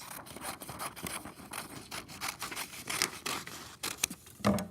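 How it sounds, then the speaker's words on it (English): Scissors snipping through paper to cut a heart template, a quick run of close, rapid crisp cuts and rasps with a small knock at the end. "So I just cut half a heart"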